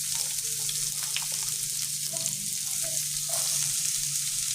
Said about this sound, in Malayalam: ഇനി ഇത് നന്നായിട്ടേ ഒന്ന് വഴറ്റിയെടുക്കാം